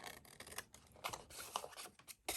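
Scissors trimming the corners of paper at an angle while an envelope journal is made, giving a run of short, close snipping and rubbing sounds in irregular bursts, quiet and with no talk.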